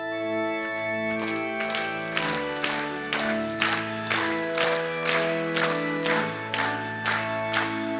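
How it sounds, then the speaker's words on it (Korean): Church congregation claps in steady rhythm while singing a hymn at a Wednesday evening service, regular beats about every half second over sustained sung chords and accompaniment, moderately loud and even throughout. "힘차게 박수를 치며 찬양함으로"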